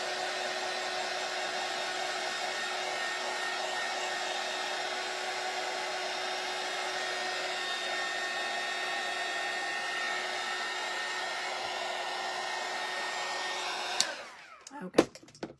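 A craft heat dryer blowing steadily to dry paint on a Christmas door hanger, a loud continuous whir held close for about fourteen seconds before it cuts off, followed by a few handling knocks.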